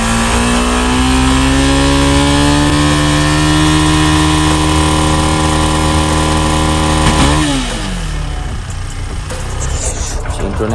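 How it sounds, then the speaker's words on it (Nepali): A motorcycle engine runs in cold, snowy mountain weather at Falame Danda, Nepal, a loud close steady drone that shifts pitch and settles lower toward the end. "बाइक चिसमा राखेर फेरि स्टार्ट हुन्छ।"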